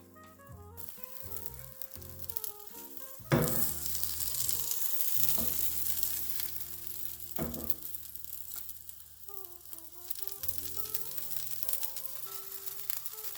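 An omelette sizzles in a pan as cheese goes in, a continuous frying hiss under music with a few sharp scrapes and clunks of utensils.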